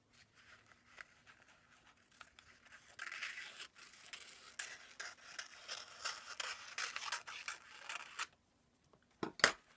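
Scissors cut book lining material to size for a text-spine, a run of scratchy snipping and paper rustling that builds and then stops, followed by a couple of sharp handling clicks, close and alone.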